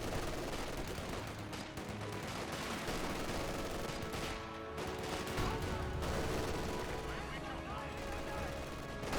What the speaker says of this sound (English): Infantry 4-2 firing away, perhaps in this Russian squad.